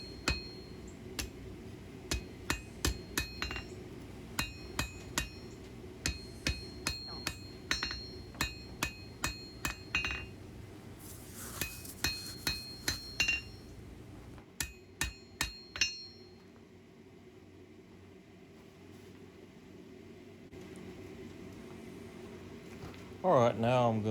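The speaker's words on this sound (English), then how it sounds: "now I'm going to use the far side of the anvil just to knock it down and work in the contour a little more" Hammer blows on a full-tang integral bolster blade against an anvil during blacksmith forging, sharp ringing strikes in irregular bursts with pauses, loud and close, with a quieter stretch near the end.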